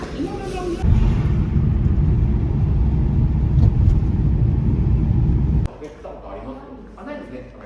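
Road traffic on an evening drive home, a steady loud low rumble of engines that drops off sharply near the end.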